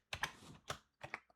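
Computer keyboard keys tapped while entering a Python virtual-environment command in a terminal, heard as a few quick, close clusters of crisp clicks separated by short pauses, with no talking.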